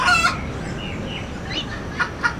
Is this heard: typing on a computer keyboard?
no